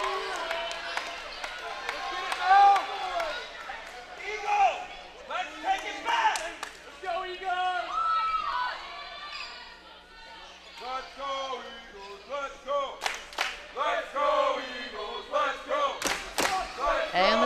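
Track team fans cheering in a gym during a college volleyball match, Tampa against Embry-Riddle, loud crowd voices and shouts running throughout with scattered claps, thuds and sharp ball or hand impacts, under steady commentary.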